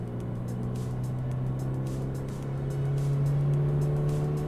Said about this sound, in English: It does get loud inside though, as artificial sound is pumped into the cabin